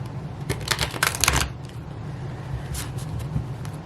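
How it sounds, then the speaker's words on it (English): A deck of tarot cards is shuffled by hand, a rapid riffling burst of crisp slaps up close, followed by a few softer card taps and handling sounds. "So let me first shuffle those cards really good."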